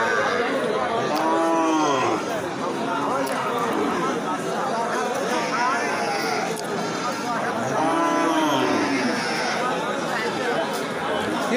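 A cow, mother of a calf, moos loudly twice at a busy cattle market, long drawn-out lows rising above a constant hum of crowd chatter and nearby voices.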